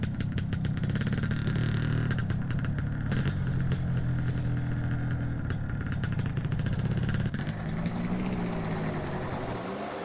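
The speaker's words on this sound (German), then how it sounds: "Wir steigen mal ein. Der Motorsound gefühlte 10 Minuten." A Case Multi Nova combine harvester engine in Farming Simulator 2013 runs as a steady, loud mechanical drone, shifting in tone about three-quarters of the way through.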